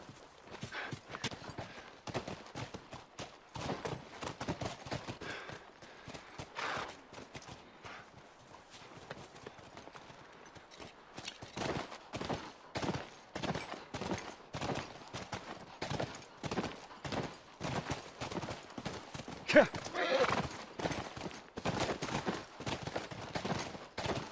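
Horses clip-clop steadily through a video game scene from The Last of Us, the hoofbeats running as a dense, continuous rhythm with a short lull in the middle and a brief louder accent later on.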